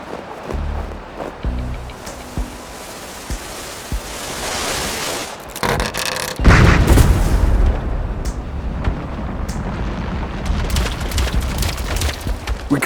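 Comic-style sound effect of an explosion setting off plastic explosives to collapse an ice bridge: a sudden loud boom that rolls into a long, heavy rumble of crashing debris, with no talking.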